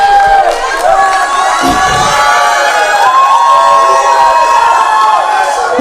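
A large audience at a club's dance show cheers and shouts loudly and continuously, with whoops rising over a dense wash of noise.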